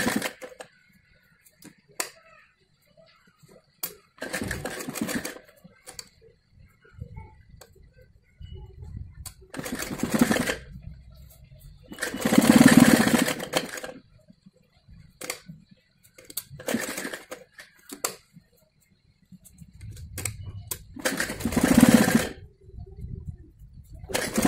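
A sewing machine stitches fabric laid over buckram to cover a front neck design on a kameez, running in short separate bursts with quiet handling between them at close range.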